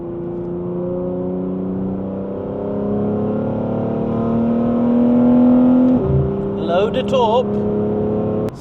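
A BMW G81 M3 Touring engine, freshly rebuilt, drones steadily and swells in pitch as it revs, then drops abruptly and surges again with quick rising revs near the end.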